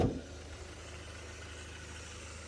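A Ford Fiesta's diesel engine idles with a low, even, throbbing hum that stays steady and fairly quiet after a short louder bump at the start, with no voices over it.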